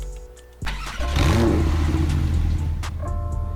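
A 2017 Porsche 911 Carrera 4S fires up in the Roblox game, a sharp crank catching into a loud rising rev that settles into a steady, rumbling idle, close and alone.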